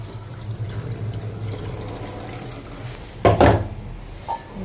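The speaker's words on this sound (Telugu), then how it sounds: "నీళ్ళతో కడిగి తర్వాత మంచినీళ్ళతో కడుగుతానండి నేను" Brown rice being washed in water from a kitchen tap, a steady low trickle and swishing followed by a sharper louder splash near the end, close and without talk.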